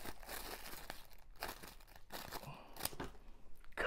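Strong duct tape being cut and pulled off a package during a plant-trade unboxing, heard as faint close crinkling, tearing and rustling in irregular bursts, with no talking.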